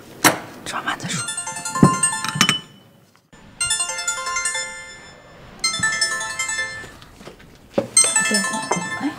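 A phone ringtone plays in repeated melodic bursts, bright tonal phrases with short gaps between them, loud and close indoors.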